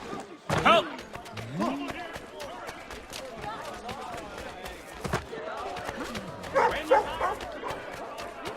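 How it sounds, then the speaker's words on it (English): Several dogs in Assassin's Creed 3 yelp and bark in scattered bursts amid a busy colonial street scene, mixed with people shouting and talking over them. "God forsaken dogs!"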